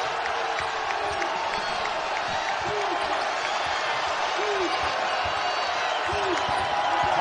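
An Arkansas home crowd at a college basketball game roars in a steady wash of cheering and noise, sustained throughout while a commentator talks over it and sneakers squeak faintly.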